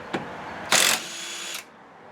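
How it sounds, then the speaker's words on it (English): A Chicago Pneumatic 1/2 inch cordless impact wrench breaks loose a lug nut torqued to 100 foot-pounds on a Honda Pilot: a short tap, then a loud brief hammering burst and a softer spinning whir that stops abruptly. "Here's the 1/2 inch popping a lug nut that's torqued to 100 foot-pounds off a Honda Pilot"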